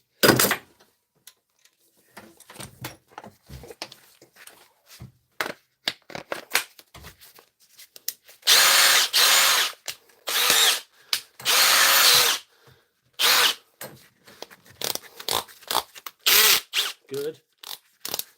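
Cordless Milwaukee power ratchet whirring in short bursts and slipping on a left-hand-thread fastener, with several longer runs in the middle; close and fairly loud, separated by clicks, handling noises and quiet gaps.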